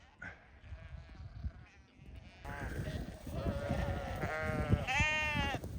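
Several sheep bleating close by, their calls overlapping and growing louder toward the end over a rustling background.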